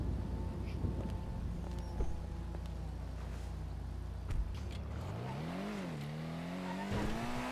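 A Toros SUV driven in GTA 5, its engine droning low and steady, then rising in pitch as it accelerates, with brief tire squeal and skid noises, loud and close with no talking.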